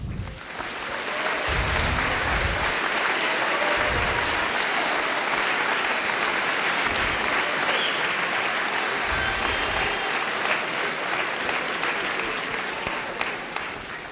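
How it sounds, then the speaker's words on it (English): Sustained audience applause at a high school graduation ceremony for the UHS Class of 2022, a dense, steady wash of many hands clapping that fills the whole stretch at an even, fairly loud level. "Let's give them a round of applause to celebrate their achievements."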